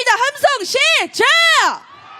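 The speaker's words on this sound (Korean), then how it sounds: "분노의 함성 질러보겠습니다. 함성 시작!" A protest crowd at a candlelight march calling for President Yoon's impeachment lets out an angry roar: a few loud, ragged, voiced shouts rising and falling in quick succession before trailing off into background murmur.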